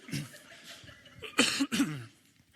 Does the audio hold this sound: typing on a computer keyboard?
no